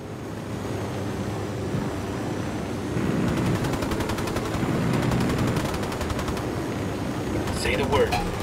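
Automatic gunfire in the video game Ghost Recon Wildlands rattles in fast, distant bursts over a constant windy roar, with a sharper, nearer burst near the end.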